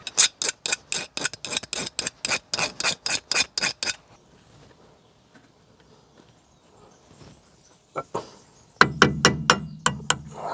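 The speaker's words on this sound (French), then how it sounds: "Regarde, j'ai un petit ergot là. Je vais aller le limer vite fait." Metal-on-metal strokes from filing down a small metal lug on a Renault Clio 2 RS part during restoration: a fast, even run of about a dozen close, loud rasps, a quiet gap, then a few more sharp strokes.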